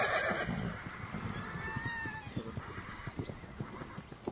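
A horse whinnies loudly and close in the 100-degree heat during a riding lesson, the call rising then trailing off over about two seconds, followed by quieter soft thumping steps and movement.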